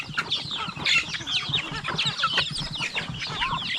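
Chickens and turkeys clucking on a farm, a dense, steady chorus of overlapping clucks and chirps close by, with no pauses throughout.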